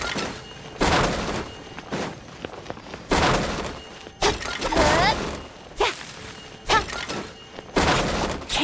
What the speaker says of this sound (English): Can't you destroy the boxes a little more quietly?